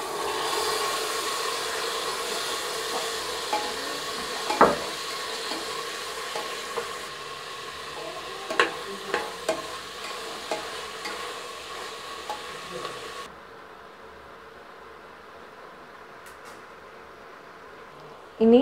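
Raw jackfruit pieces stir-fried with onion and chili in a pressure cooker pan, a steady close sizzle with scraping stirs and occasional sharp clinks of a spoon, quieting toward the end.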